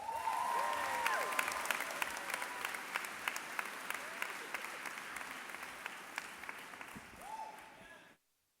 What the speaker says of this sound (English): please give a warm round of applause to Christopher Harris